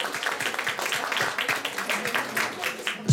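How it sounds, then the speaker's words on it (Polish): Audience applause for a young performer at a children's talent show, a steady dense patter of many hands clapping throughout, fairly close and continuous. "Wielkie, wielkie brawa dla Maćka!"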